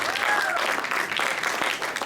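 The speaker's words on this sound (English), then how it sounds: "I do believe that we owe another round of applause to Dr. K for 30 years of doing this." An audience applauds steadily at a celebration honoring a longtime presenter, a dense continuous patter of many hands at moderate distance, with a faint voice briefly audible over it.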